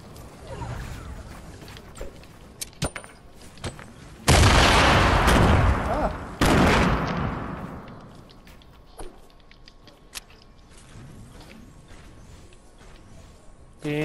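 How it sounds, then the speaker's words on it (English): Gunfire in the video game Fortnite, with bursts of loud blasts and scattered sharp shots against game ambience, including two long, heavy volleys mid-clip, while players talk. "They're gonna shoot us."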